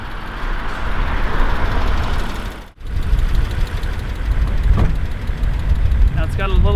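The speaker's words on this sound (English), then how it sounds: "Now it's got a little bit of lifter tick to it." A 2000s E39 BMW engine idles with a steady low rumble and a faint light lifter tick, running continuously for several seconds with a brief dip midway and people talking faintly nearby.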